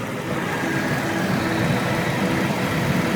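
A 2003 Jeep Grand Cherokee engine fitted with a Ford mechanical fan runs steadily at idle, a continuous close, loud drone with the fan rushing air over it.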